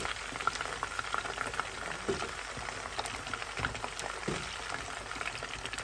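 Potatoes sautéing in cooking oil, giving a steady close crackling sizzle with scattered pops and occasional stirring scrapes, fairly quiet and without talk.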